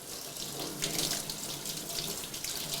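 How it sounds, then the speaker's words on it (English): Leeks being rinsed in a strainer under a running tap, a steady close rush of water splashing through the mesh and over the vegetables, with no voices. "you just take these and rinse them off in the water, make sure the dirt's all off"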